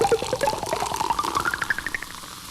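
A synthesized Coca-Cola pop-and-pour effect made by Suzanne Ciani on a Buchla: a rising, bubbly gurgle like liquid filling a glass, climbing steadily in pitch over a fizzy wash, alone and fairly loud.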